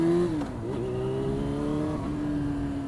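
A motorcycle engine hums close by, with a brief throttle blip that lifts the pitch and then eases back as the engine braking sets in, followed by a steady, slightly wavering drone.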